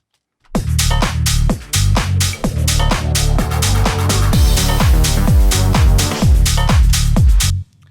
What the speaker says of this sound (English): That reverse reverb is giving the exact desired effect I was after of introducing this new sound here in an interesting way.